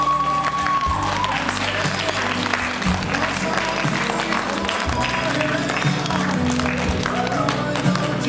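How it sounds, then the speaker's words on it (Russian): Show audience applauding the departing jury, sustained dense clapping from a crowd at a steady level, with a voice speaking over it. "Давайте, друзья, проводим наше жюри аплодисментами."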